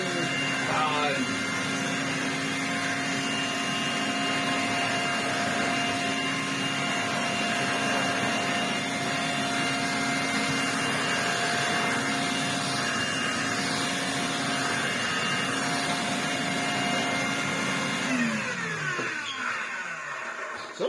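An Electrolux Z504 vacuum cleaner runs on a stiff rug with a loud, steady motor whine that holds for the whole stretch, close by, then eases slightly at the end.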